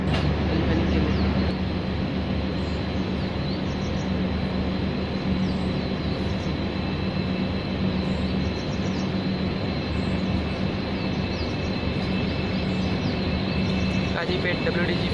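A train rolls past on the Konkan Railway, a loud continuous rumble and wheel clatter sustained close by for the whole stretch, with faint chirps of birds or insects above it.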